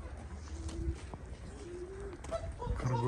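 Pigeons coo low and soft in a few short bursts over a busy outdoor background murmur at a zoo in Odessa, Ukraine, the calls growing clearer toward the end.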